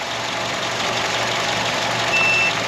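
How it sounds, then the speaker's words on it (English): A continuity tester gives a short, faint, high beep near the end while checking a ground on a 2.4-litre Honda CR-V, over a steady low hum and background noise. "There's a beep."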